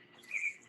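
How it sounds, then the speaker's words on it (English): A single faint bird chirp rises briefly in the distance against a quiet indoor background, short and high-pitched. "I hear a lot of birds"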